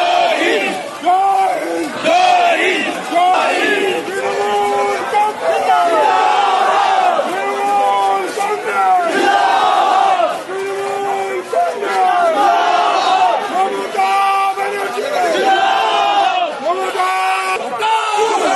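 A dense street procession of Trinamool workers in Habra chants Jai Hind slogans in loud, rhythmic unison, voices rising and falling in repeated surges that continue without a break.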